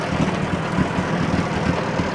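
Engine of a 1964 Ford 4000 tractor running at a steady idle, a loud, close, continuous low rumble with an even throb.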